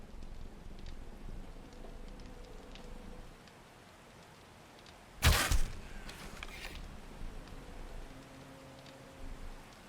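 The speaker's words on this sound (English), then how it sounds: "First rain in a while." Rain falls in the survival game 7 Days to Die, a soft steady patter of drops that continues throughout, briefly broken midway by a loud creaking, mechanical clatter.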